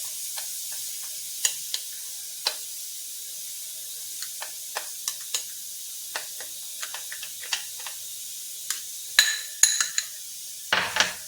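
A spoon works a rose water and curd paste around a bowl, giving sparse soft scrapes and light clicks, with a brief louder clatter near the end; no one speaks.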